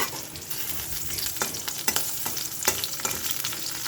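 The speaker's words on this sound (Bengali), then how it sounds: "এবার পটল ভাজা চাপিয়েছি।" Sliced pointed gourd (potol) fries in a home kitchen pan, giving a continuous close sizzle punctuated by sharp spatula scrapes and taps as the pieces are stirred, with no talking.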